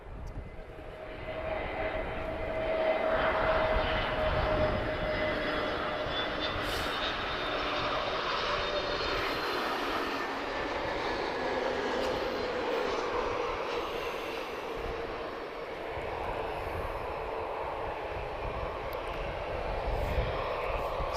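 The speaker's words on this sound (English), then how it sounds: "A320neo inbound. This is TP1902 arriving from Faru." A TAP Air Portugal A320neo arriving at Lisbon Airport from Faro passes with a rising whine and roar of its engines that swells and then holds as a sustained rumble, with no speech.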